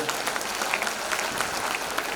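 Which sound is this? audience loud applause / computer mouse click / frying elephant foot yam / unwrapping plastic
audience loud applause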